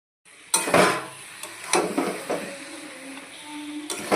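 Vegetable stems being stirred with masala in a metal pan, with scraping spoon clatters and clinks against the pan in irregular bursts, close by, with no talking.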